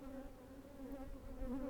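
Bees buzzing steadily around an open beehive with the queen nearby, a continuous close droning hum that swells slightly toward the end, with no voices.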